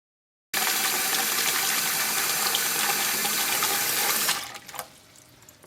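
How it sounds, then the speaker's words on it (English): Tap water gushes into a large pot being filled for deep frying a turkey, starting abruptly as a loud steady rush, then stopping with a few trailing drips and clanks. "we've filled up the pot with water"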